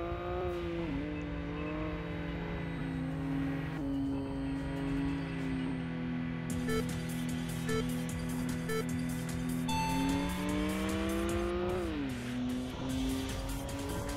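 Car engine in the Import Tuner Challenge racing game on Xbox 360, holding steady revs with gear-shift pitch drops and climbs, plus intermittent clicking game effects, loud and continuous.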